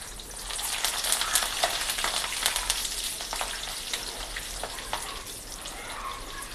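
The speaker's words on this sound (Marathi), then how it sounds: "मीठ भरलंय आणि आता आम्ही तळणार आहे।" Salt-stuffed green chillies, slit down the middle, deep fry in hot oil with a dense, continuous bubbling sizzle, close and even from start to finish, with no one talking.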